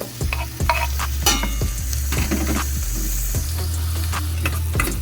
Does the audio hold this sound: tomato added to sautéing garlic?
yes